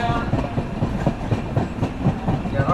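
A Kochuveli–Bhavnagar Express sleeper coach on the Konkan route runs with a steady, rhythmic clickety-clack of wheels over rail joints beneath a low rumble, heard from close by.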